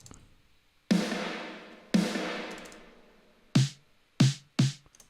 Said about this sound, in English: there's this really verby snare, just drowned in reverb